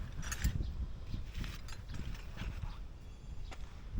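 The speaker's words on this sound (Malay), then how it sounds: "Okey, skru 12 buka ni. Okey, buka." Wrench turning to loosen a 12 mm bolt on a Honda ADV 160 scooter during an oil and gearbox oil change; faint, close mechanical clicking and rattling in short irregular bursts.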